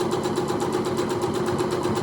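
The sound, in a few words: sewing machine sewing fabric strips together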